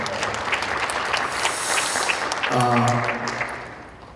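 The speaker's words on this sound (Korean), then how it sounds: "네, 주님께 박수하겠습니다." A church congregation applauds together in a large 1,500-seat sanctuary during an evangelism rally, with the clapping continuing as a voice rises over it near the end.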